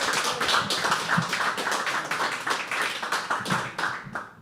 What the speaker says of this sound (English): Can we clap again for it?